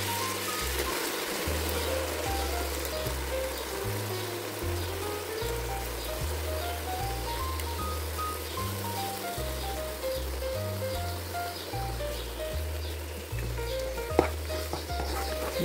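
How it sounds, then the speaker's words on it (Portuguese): Rice being stirred into caramel and condensed milk in a pan for creamy rice pudding, a steady bubbling sizzle with soft scraping, while background music plays throughout. "Vou colocando, ó, dá uma misturada, aí o caramelo vai desgrudando da panela, vai soltando da panela."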